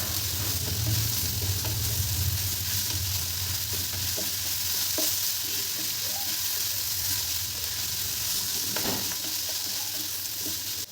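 Sliced ridge gourd is added to potatoes already frying in a pan for a jhinga aloo chorchori, and the mix is stirred. A steady, loud sizzle runs throughout with occasional scraping, and no voices are heard.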